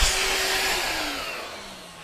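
A Ryobi 18V wet dry vacuum runs on high with a loud, steady airy whine and rushing airflow, close by, its tone easing slightly downward.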